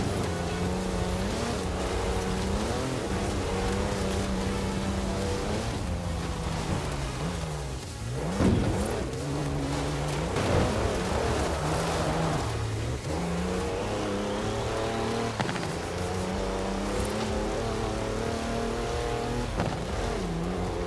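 A 340-horsepower car in Forza Horizon 4 drives steadily with a continuous engine drone, pitch shifting through gear changes and revs, loud and close, with rain-like noise around it.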